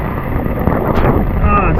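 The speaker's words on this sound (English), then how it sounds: "it's still really windy." Strong wind roars and buffets the microphone steadily throughout during a severe thunderstorm while camping outdoors, a dense rumbling gust with no talking.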